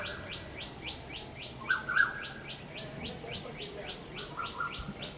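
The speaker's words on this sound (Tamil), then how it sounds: "அது மைனா கத்துது." A common myna calls with a steady series of short, repeated chirps at an even rhythm, moderately loud over a hissy outdoor background with no voices.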